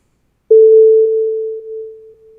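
An enveloped, synthesized sine tone with reverb and delay sounds as one clear, steady pitch. Faint delay repeats pulse at regular intervals as it gradually fades. It plays alone, with no talking.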